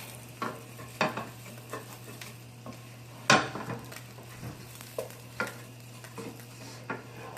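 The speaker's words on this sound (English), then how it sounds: "Now all I'm going to do is try to scrape up all those little bits that were left over from the pork." A spoon scraping leftover pork bits around a pan with balsamic, with intermittent scrapes and clinks over a faint sizzle, close and fairly quiet.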